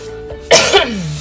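A single short cough from a woman with allergies and post-nasal drip, close and sharp after a brief quiet moment, then a fading vocal tail.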